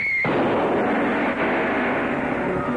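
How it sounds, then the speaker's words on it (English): A single sharp gunshot in an old film serial bursts out after a brief tone, then a long booming rumble decays over nearly three seconds, loud and alone. "What was the result of the shot we just heard?"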